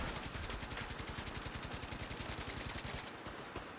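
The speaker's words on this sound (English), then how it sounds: "Oh, that fucker has a minigun." A minigun in a video game fires in a sustained, rapid burst, its dense rattling shots running loud and continuous for about three seconds before cutting out.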